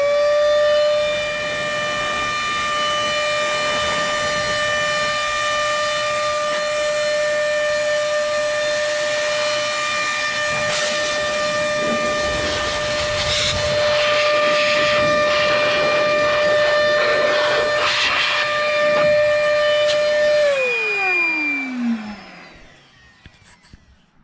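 A Meco Eleverde mini handheld compressed-air keyboard dust blower runs loud and close with a steady, high whining tone that holds for about twenty seconds, then winds down and fades to a stop.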